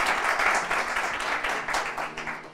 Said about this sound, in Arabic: صفقوا لهم عادي أصحابكم